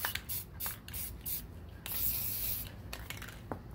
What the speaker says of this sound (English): kind of spray it in an angle too.